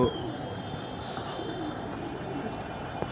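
Pigeons coo softly against a steady background hum, a faint low murmur running through the short stretch with no clear talk.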